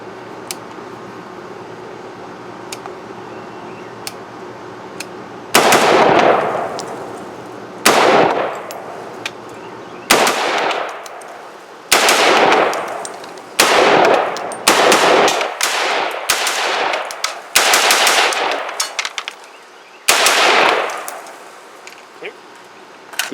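Midwest Industries GAU-5A ASDW takedown survival rifle firing outdoors in loud separate shots and short bursts, each blast ringing out and trailing off, with spent shells clinking down nearby.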